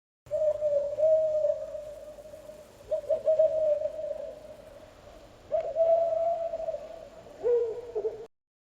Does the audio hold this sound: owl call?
yes